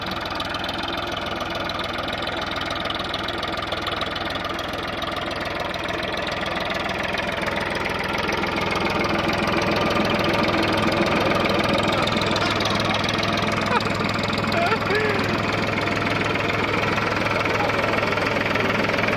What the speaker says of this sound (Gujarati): ઓટોમેટિક બસ ટ્રેક્ટર જઈ રહ્યું છે